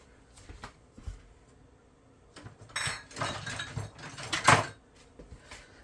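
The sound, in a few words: stirring broth and powders in a crockpot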